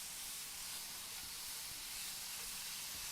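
Chicken and half a cup of chopped onions cooking in a pan for lettuce wraps, a faint, steady broadband sizzle and hiss that holds constant with no talking.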